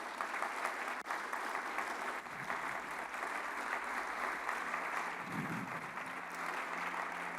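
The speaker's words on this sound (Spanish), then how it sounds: "¿Por qué no le das un aplauso al Señor por eso?" Applause from a church congregation runs steadily and loudly across the whole stretch as a dense, even wash of many hands, with no speech over it.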